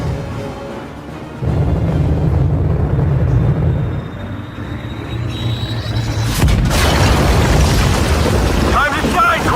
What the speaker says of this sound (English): I have one satellite-turned bomb coming in hot.